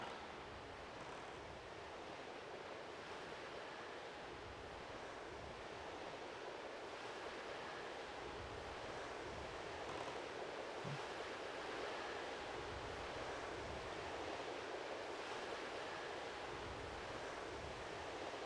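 Icy wind in The Legend of Zelda: The Wind Waker, a steady, broad rushing roar like surf that holds at an even level throughout, with no talking.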